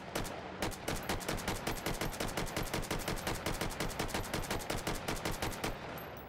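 Rifle fired in semi-auto within the VR game Hot Dogs, Horseshoes & Hand Grenades, a steady run of roughly thirty close, loud, sharp shots in quick even rhythm with no talk.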